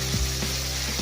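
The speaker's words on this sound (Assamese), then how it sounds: "মই ইয়াত পনীৰখিনি দি দিছো আৰু পনীৰখিনি মই অলপ ভাজি ল'ম।" Paneer pieces fry in hot oil in a pan while an Assamese-style matar paneer is being made, giving a brief, steady close-up sizzle with soft crackles and no talk.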